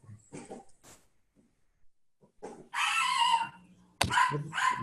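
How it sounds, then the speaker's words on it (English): Dogs barking in a nearby backyard, a few short barks and yips followed by two loud, drawn-out bursts of barking that stand out clearly against a quiet background. "They think your dogs are in my backyard."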